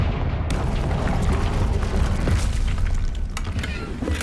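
The Confringo fire spell explodes in the Hogwarts Legacy video game, a sudden loud boom that breaks into a long rumbling blast with scattered crackling debris.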